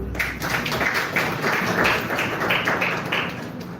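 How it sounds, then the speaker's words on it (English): An audience at a Uganda Law Society gathering breaks into steady applause, many hands clapping together in a dense, even roar that holds for several seconds without letting up. "I didn't expect you to clap."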